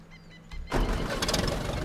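Tractor engine cranking and catching in the ArmA 2 DayZ game, a quiet start then a sudden loud, steady rumbling run that holds at full level to the end.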